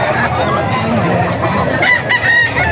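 Gamefowl bullstag rooster crowing up close at a Bocaue market, one loud drawn-out crow with clucking and market noise around it.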